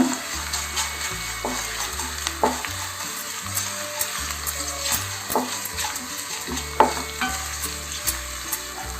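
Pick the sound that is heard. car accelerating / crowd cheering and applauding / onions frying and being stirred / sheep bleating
onions frying and being stirred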